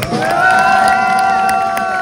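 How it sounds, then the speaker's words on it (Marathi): A loud crowd cheering and whooping continuously, with a steady roar of many voices and possible clapping mixed in. "एकदा जोरदार टाळ्या वाजवायचे"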